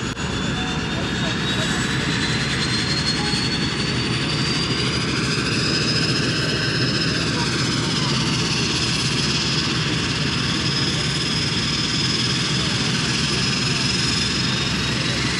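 An airplane taking off at Vancouver airport, a loud sustained jet engine roar with a sweeping rising whine, heard from nearby throughout.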